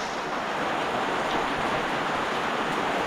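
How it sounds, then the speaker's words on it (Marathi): Light rain falls outdoors in the evening, a steady broadband hiss without distinct drops, constant and moderately loud, with no talk. "आणि अशा वेळी हा पाऊस पडतो आहे."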